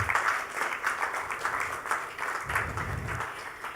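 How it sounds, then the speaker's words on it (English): Steady audience applause at a medical conference session, a dense continuous wash of many hands clapping for the organising committee, fairly even throughout with a brief swell near the end. "So very big applause for all the LOC members."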